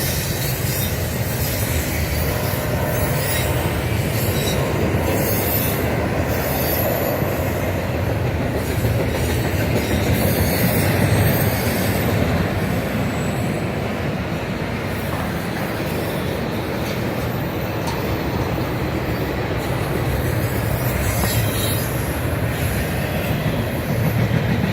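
A BNSF intermodal freight train rolls past close by, a steady, loud rumble of wheels and rail cars with faint clickety-clack and occasional squeal, continuing unbroken throughout.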